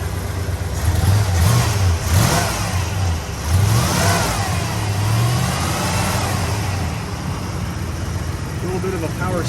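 A 1969 Lincoln Continental Mark III's engine runs close by with a steady low rumble and a few gentle revs that rise and fall, while someone talks over it.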